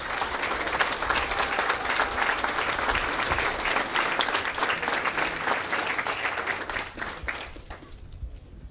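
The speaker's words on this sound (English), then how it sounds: "Let's give the General and the Guard a big round of applause." Steady, dense crowd applause at an outdoor veterans cemetery grand opening ceremony, loud and sustained for several seconds before fading out.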